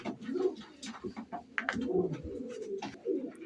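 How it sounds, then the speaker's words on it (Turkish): Pigeons coo close by, several soft throaty calls overlapping across a few seconds, with no speech. "Kuşlarda motor gibi ses var."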